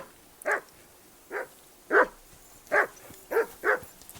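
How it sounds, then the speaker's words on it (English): A dog in the Kingdom Come Deliverance 2 video game barks six times at irregular intervals. The barks are sharp, moderately close and loud over a quiet background. "whistle at that mutt of yours to stop barking"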